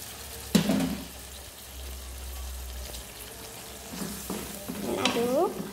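Sacrificial qurban beef dropped into a hot pan, a sharp clatter followed by a steady close sizzle with occasional stirring knocks and a brief rising squeak of the utensil; a voice is briefly heard over the frying.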